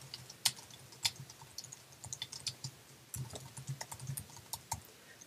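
Light, quick keystrokes on a computer keyboard in short irregular bursts, fairly close and quiet, with no talking.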